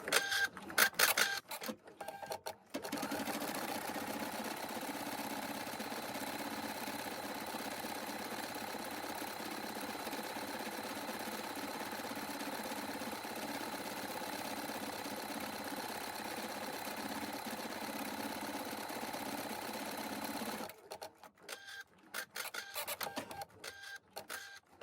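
An embroidery machine stitches an outline in silver metallic thread with a steady, close mechanical whirr and rapid needle chatter. The stitching runs continuously for about eighteen seconds, with brief handling noises just before and after.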